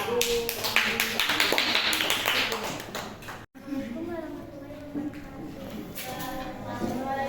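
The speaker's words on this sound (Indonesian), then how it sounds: "Beri aplaus buat kelompok Abu Bakar." Classroom applause for a student group, dense irregular clapping from many hands filling the room, briefly cut off midway and then resuming a little thinner.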